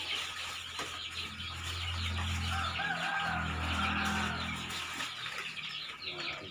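Chickens cluck and fuss close by while a sick bird is given an injection, a steady low rumble running underneath throughout.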